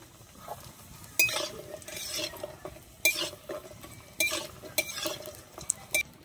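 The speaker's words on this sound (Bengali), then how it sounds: "তাই আমি প্রথমে বড়িগুলো ভেজে নেব।" Bori lentil dumplings frying in hot mustard oil in a wok, a soft continuous sizzle broken by several sharp metallic clinks and scrapes of a spatula stirring against the pan.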